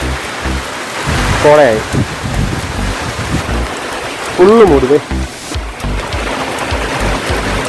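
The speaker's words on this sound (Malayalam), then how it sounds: "നല്ല അടാറ് മഴയും." Heavy rain pouring down on an offroad trail at Ulupunni amid thick mist, a loud steady hiss under people speaking, with a passing engine or horn-like tone rising twice.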